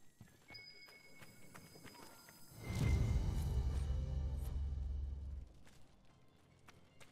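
A purebred Ferelden Forder chestnut horse in Dragon Age Inquisition, with hooves clip-clopping in steady steps and a loud snorting whinny swelling midway, over faint game ambience.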